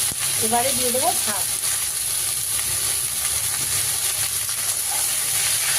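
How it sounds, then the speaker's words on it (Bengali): Drumstick leaves sizzling in a pan of oil with onion and garlic while being stirred often, a steady close hiss with scraping stirs, with a brief human voice near the start. "সজনে শাক দিয়ে ঘন ঘন নাড়তে হয়"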